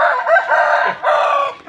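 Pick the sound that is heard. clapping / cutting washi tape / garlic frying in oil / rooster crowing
rooster crowing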